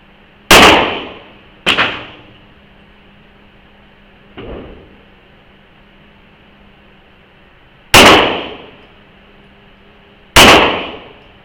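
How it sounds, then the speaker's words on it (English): Handgun shots at an indoor shooting range: five sharp, loud reports, irregularly spaced, each cracking out with a quick echoing decay, one softer and more distant than the rest, with no talking. "Go shoot some rounds down range."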